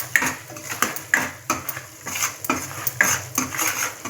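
Fine semolina roasting over a medium flame, stirred in a metal pan with a spoon: rhythmic scraping strokes about every half second, each ending in a light metallic clink, close and loud, no voice.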